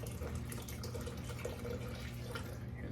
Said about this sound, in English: So I'm gonna take some, and I wanna pour it